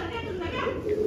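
Young pigeon chicks coo softly in a steady low murmur at close range, a continuous throaty burble that lasts the whole moment.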